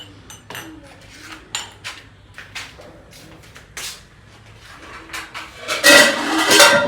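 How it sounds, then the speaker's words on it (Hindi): Dishes and plates being set into a cabinet in a newly arranged room: scattered clinks and clatters of crockery knocking together, sparse at first, then a louder burst of rattling toward the end. "अभी इसमें लगाती हूँ मैं बर्तन।"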